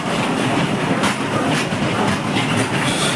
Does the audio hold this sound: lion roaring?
no